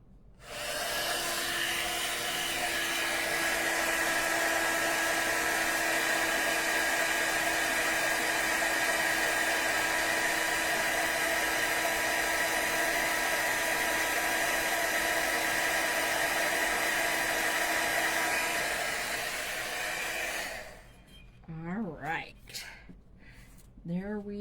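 A craft heat tool heat-embossing a birthday card held with tweezers blows a loud, steady, close whir for about twenty seconds, then cuts off, followed by brief talking.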